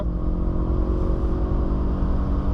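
A BMW E46 accelerates hard at full throttle in third gear, its engine giving a loud, steady droning roar with strong low rumble heard from inside the car.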